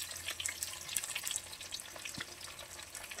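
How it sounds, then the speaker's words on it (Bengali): Hilsa fish fries lightly in a pan, a steady crackling sizzle with faint spattering pops, quiet and continuous, with no speech. "এখন এই যে আমি ইলিশ মাছটা ভাজছি"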